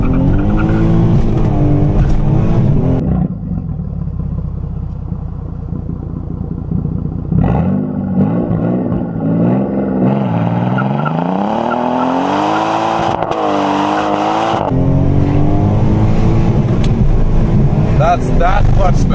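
Twin-turbo 2JZ-swapped Toyota Aristo IS300 with a 5-speed launching from a dig, its engine loud and close, revs climbing and surging with clutch slip, with voices heard faintly alongside.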